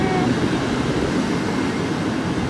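An Intercity train rolls through Kraków near the main station. It makes a steady, loud rumble of wheels and rail noise that holds for the whole stretch with no pauses.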